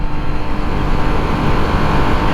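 Motorcycle engine held at about 5,500 rpm in third gear, a steady loud drone close by with no break, on a bike shown at the 2021 International Motorcycle Show in Nashville.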